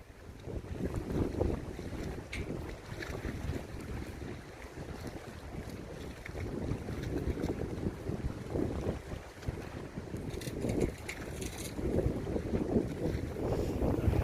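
Strong wind gusts across the seashore on Geumodo island, roaring buffets against the microphone mixed with waves washing in, continuous and fairly loud with no one talking.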